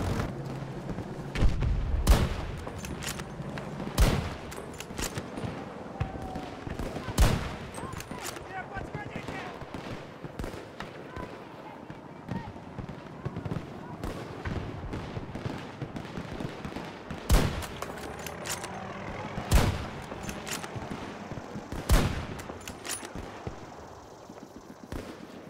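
Battlefield 2042 on PC fills the scene with rapid gunfire and heavy impacts: repeated cracks and booms, some near and loud, others softer, under continuous battle noise while someone talks.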